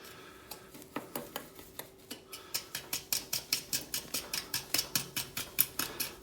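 A spoon stirs a foaming eggshell mixture in a container, making a fast, even run of light clinking taps that starts sparse and then grows dense and regular, close up with no talking.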